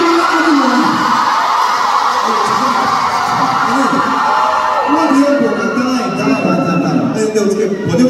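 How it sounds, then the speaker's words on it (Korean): Concert crowd at a show in London on the 2024 Europe Tour screaming and cheering in a big venue, a loud, continuous roar of high-pitched yells and whoops that holds steady for eight seconds. "좋아하신다고 소리 질러."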